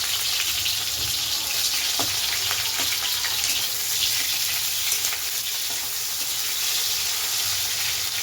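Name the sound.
onion and tomato frying with cumin tempering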